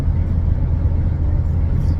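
Cabin noise inside a Mazda MX-5 Miata rental car on the road, a loud steady low-frequency road and engine rumble filling the interior with no voices.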